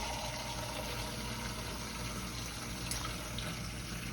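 Water pours steadily into a pot of black-eyed peas with a constant, even rush and splash, with no voices over it.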